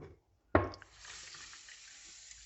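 Water is poured into a pan for sugar syrup for gulab jamun, starting with a sudden splash and settling into a soft, steady trickling flow in a quiet kitchen.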